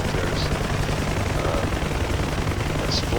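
Gunfire in a helicopter battle in the DCS flight simulator, with UH-1 Huey and Ka-50 helicopters, heard as a dense, continuous roar of shooting and rotor noise with no breaks, loud and steady throughout.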